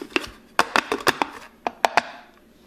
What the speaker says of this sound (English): Couple of taps there to let the remainder oil go down.